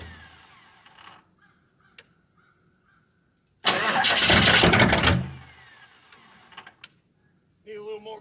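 A cold diesel engine in a diesel-swapped Monte Carlo cranks and catches in snowy weather, a loud rough burst of about a second and a half set between quiet stretches with faint background sounds.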